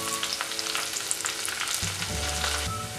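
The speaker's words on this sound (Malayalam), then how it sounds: "ഇഞ്ചിയും വെളുത്തുള്ളിയും നന്നായിട്ട് മൂത്ത് വരണം, ആ ഒരു പച്ചമണം പോണം." Ginger, garlic, dried chillies and curry leaves fry hard in hot oil for a Kottayam-style fish curry, giving a dense, continuous, loud crackling sizzle up close with a low hum underneath.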